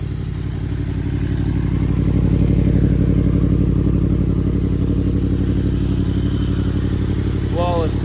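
A 2021 Yamaha R1 with a Woolich tune and full Akrapovic Evolution exhaust idles steadily nearby, a loud, even engine drone throughout, with a brief higher whir near the end.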